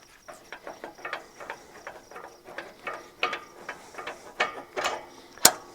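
Threaded rod being spun out on a CLASP-IT mechanical grapple during installation, a rapid run of light metallic clicks and ratcheting ticks in an uneven rhythm, close by, ending with one sharper snap.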